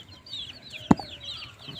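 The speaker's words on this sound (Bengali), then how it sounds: "মুরগির বাচ্চা, দেশি মুরগির বাচ্চা পালার ঘর।" Native chicken chicks in a rearing house on a small farm, with a soft steady chirping and clucking bed and a single sharp loud click or knock near the middle.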